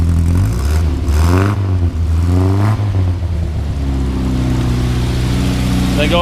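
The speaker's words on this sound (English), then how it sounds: "Go ahead and rev it up a little bit." A 1961 Morris Minor Series III quarter-ton pickup's engine revs loud and close, pitch climbing and falling in a couple of throttle bursts before settling back to a steady rumble.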